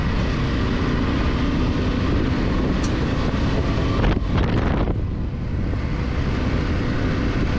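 A Yamaha Tenere 700 motorcycle riding over Mojave desert dirt, its engine buried under heavy, continuous wind roar on the microphone, with a brief surge partway through.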